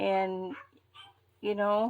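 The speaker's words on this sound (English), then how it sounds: "Sorry about my dogs again." Household dogs bark in two loud, close bursts, one at the start and one at the end, with a person speaking briefly in between.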